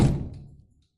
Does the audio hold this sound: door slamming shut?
yes